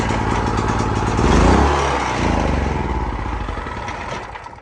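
A small gasoline generator fires up on choke and settles into a loud, steady, slightly rough running drone close by, the engine note swelling briefly near the start before evening out.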